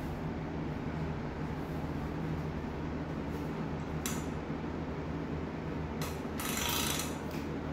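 A Triumph TR6 engine, partway through a rebuild, being cranked around by hand, heard as a low steady mechanical rumble with a few faint ratcheting clicks near the end.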